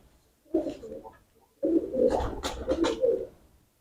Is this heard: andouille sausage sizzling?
no